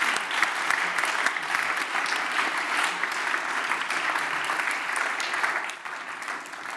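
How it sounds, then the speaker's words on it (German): An audience at a Bavarian digital summit gives sustained, dense applause for the speakers, a loud, even roar of many clapping hands that dips slightly near the end. "Bitte nochmal großen Applaus für Melanie Hummel und Ludwig von Bayern und natürlich immer für Frau Gerlach."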